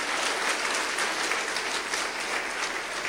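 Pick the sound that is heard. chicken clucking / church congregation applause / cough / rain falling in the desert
church congregation applause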